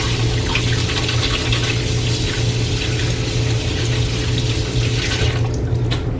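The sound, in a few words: washing hands under running tap water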